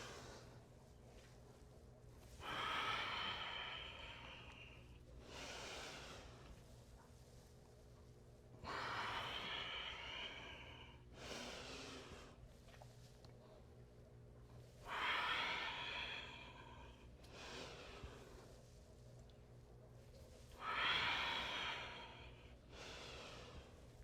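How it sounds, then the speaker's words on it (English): Deep yoga breaths during a dynamic flow workout, slow powerful inhales and exhales alternating in a steady rhythm, each breath a long airy rush, close and clear with no talking. "Utilizing the full length of each inhale and exhale."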